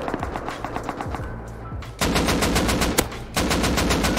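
Sustained automatic gunfire in the survival video game Rust, with rapid repeated shots rattling continuously and loudly, swelling in intensity partway through.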